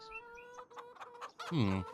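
Chicken clucking in the Farming Simulator 25 video game, a few soft clucks and chirps ending in a louder, drawn-out squawk, close and clear.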